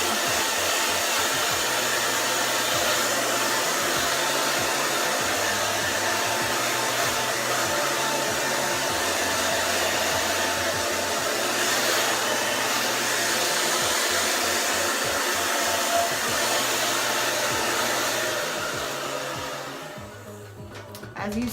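Hair dryer blowing steadily on wet braids after mousse is applied, a loud continuous whoosh with slight shifts in pitch as it moves, cutting off near the end.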